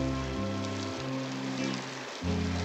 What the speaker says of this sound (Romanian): Nu mi-aș fi închipuit că o să plouă.